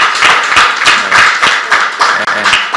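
People from Badagry clap at a customs official's courtesy visit to the Lagos governor, with loud, close handclaps in an uneven rhythm, several overlapping strikes per second with brief gaps.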